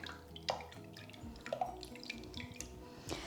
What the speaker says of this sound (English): Give my hands a quick wash in the water.